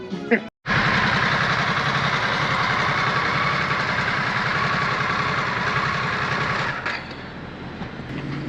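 A 2022 Harley-Davidson Sportster S motorcycle engine runs steadily and loud with a rough, throbbing low rumble. It cuts out briefly near the start, then holds a constant drone until a small dip late on.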